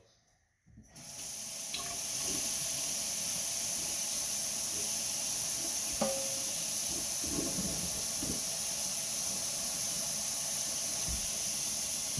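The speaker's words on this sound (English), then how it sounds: "the most important step is to rinse your lentil very thoroughly." Tap water running steadily over lentils being rinsed in a strainer, a close, even hissing rush that starts abruptly and continues without pause, with small shifts as the grains are moved.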